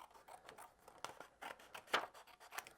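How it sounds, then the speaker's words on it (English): Scissors snip through paper around a die-cut dove shape, a run of quiet, close, crisp cuts in an uneven rhythm. "just take a pair of scissors rather than cut into the whole piece"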